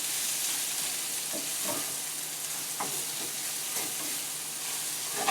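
Minced garlic sizzles steadily in a hot pan, a constant close frying hiss with a few soft clicks of stirring and no talking.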